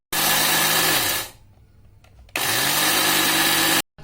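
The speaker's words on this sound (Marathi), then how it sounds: "मटकीची डाळ घेतली आहे 1 वाटी, मिक्सरला बारीक करून घेऊया।" A kitchen mixer grinder whirs loudly as it grinds moth bean dal, running in two strong bursts separated by a short pause while the motor winds down.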